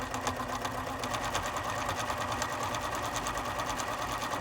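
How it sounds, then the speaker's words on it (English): A sewing machine runs steadily while stitching a red strip onto quilting fabric with a 1/4 inch seam, a fast, even mechanical whir and rapid needle pulse, close and continuous with no voices. "I'm going to just sew a bit."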